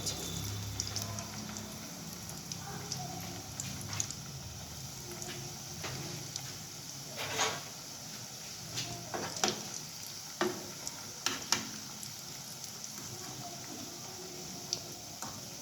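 Dough for a banana-shaped sweet fries in hot oil, a soft continuous sizzle dotted with sharp crackles and pops, close and fairly quiet, with no talking.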